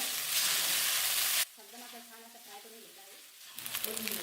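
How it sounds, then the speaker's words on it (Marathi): Soaked sago fries loudly with potato and chilli in a pan for khichdi, a strong sizzling hiss that cuts out abruptly midway, leaving a quieter stretch of stirring, then returns. "साबदाना आपल्याला चांगला फ्राय करून घ्यायचा आहे"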